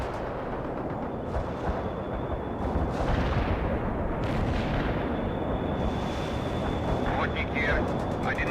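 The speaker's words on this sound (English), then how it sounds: "Anti-tank strike is inbound." Anti-tank strike explosions in the World in Conflict game, a continuous rumbling barrage of loud booms and roaring blasts that fills the whole stretch, with radio-style voices speaking under it.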